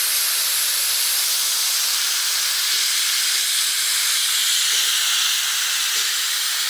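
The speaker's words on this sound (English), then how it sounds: "Combination of the steamer and the all-purpose cleaner." Steam cleaner hissing continuously and loudly up close while cleaning the interior of a 997.2 Porsche 911 GT3 RS, a steady bright jet of steam with no pauses.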